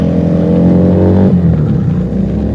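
A Keeway SCR 250V motorcycle with a Mavionic aftermarket exhaust roars and revs up, then the pitch drops as it passes by, a deep throaty exhaust filling the whole moment.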